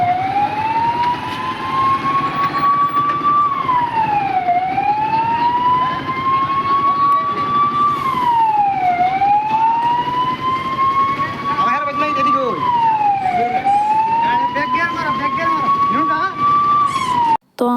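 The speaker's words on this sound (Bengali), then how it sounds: "তো ফায়ার ব্রিগেড আইছে" Fire engine siren wailing loud and close as the truck arrives at a forest fire near a house, its rising and falling sweeps repeating steadily for the whole stretch.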